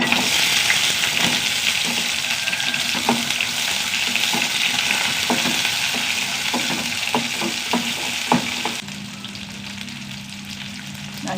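Urad dal, garlic and shallots fry in a pan with a dense, continuous sizzle and frequent stirring clicks. Near the end the hiss drops to a quieter, lower frying sound. No one speaks.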